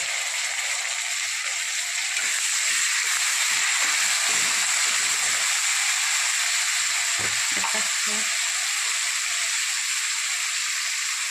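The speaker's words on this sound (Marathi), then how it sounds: "कांदा थोडासा लाल झाला तर टाकत आहोत आपण टमाटा।" Tomato dropped onto onions frying in a pan sizzles with a steady, loud hiss throughout, with a few clinks and stirring scrapes near the end.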